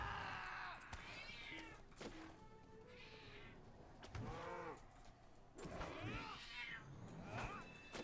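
A cat howls and yowls inside a video game, a series of drawn-out wavering meows repeating across the stretch, loud and close over a steady background hum.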